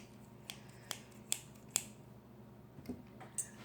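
Plain old scissors handled during a crafting demonstration, giving a handful of sharp, brief snips and clicks spaced unevenly over a low steady background hum, fairly close and quiet.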